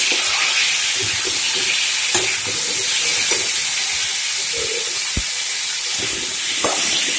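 Ground cumin being stirred into a frying pan for a fish curry with potatoes, steady loud sizzle and hiss with occasional scraping clicks of the spoon, no talking.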